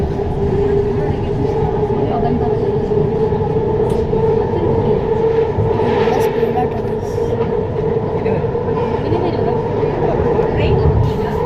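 A metro train runs at speed, its steady low rumble and rail noise continuous throughout, with the cabin hum loud and close.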